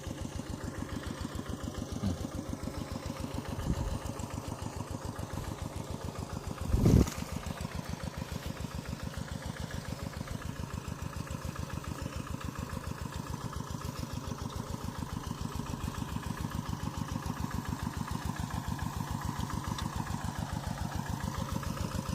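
A Caterpillar excavator engine runs at a steady idle at a digging site, a continuous throbbing mid-pitched drone with one brief louder knock partway through, no speech.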